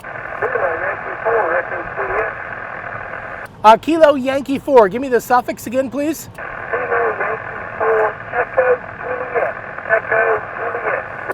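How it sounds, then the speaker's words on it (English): Ham radio contact heard from a car on a Parks on the Air drive, a radio operator's voice coming through a heavy static hiss, with a clearer operator voice cutting in briefly partway. "everyone sounds really static, has a lot of static on the signal"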